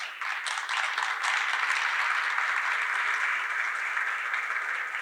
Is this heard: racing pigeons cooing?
no